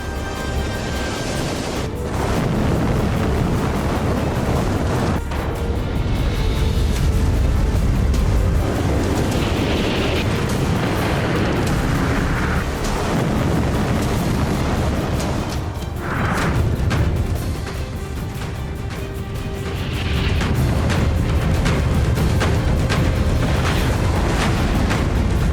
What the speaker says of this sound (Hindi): साढ़े 12 किलोटन TNT की ताकत वाला धमाका हुआ।